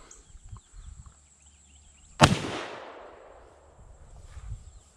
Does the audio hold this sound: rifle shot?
yes